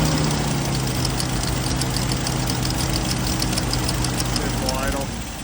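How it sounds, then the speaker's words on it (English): A 1979 Jeep CJ5 engine, run on old varnished fuel, idles loudly up close with a steady, rough, knocking rumble, while people talk over it. "It's idle."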